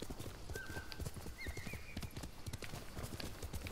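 Horse hooves clip-clop steadily in Ghost of Tsushima, a quick, even run of close, crisp footfalls with a couple of short whinnies rising briefly above them.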